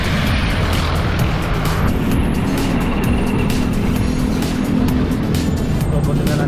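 Busy city traffic rumbles continuously around a cyclist, with engines and passing vehicles forming a loud steady wash and a person talking now and then.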